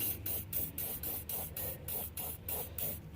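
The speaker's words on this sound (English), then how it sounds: "Just take yourself some WD-40, spray it up in there" WD-40 spray lubricant sprayed up into a truck tailgate latch, a continuous close hiss pulsing in quick regular bursts, alone without talk.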